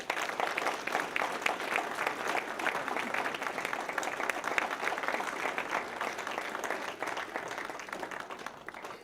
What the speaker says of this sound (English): the way that we do that is with a round of applause